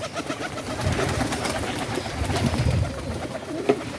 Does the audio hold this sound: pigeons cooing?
yes